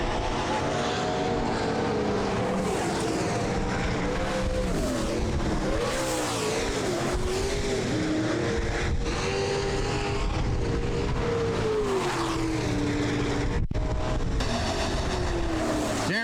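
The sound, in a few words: late model street stock race cars on final lap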